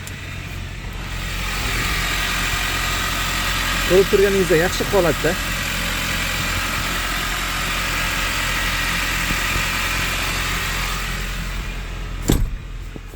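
A car engine idles in a steady, even hum with the hood open, while someone talks over it in Uzbek.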